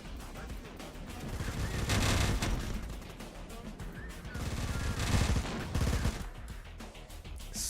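Dense bursts of automatic gunfire and heavy weapons fire roll on continuously in the battle game Terminator Dark Fate Defiance, with rising and falling waves of shots at close range.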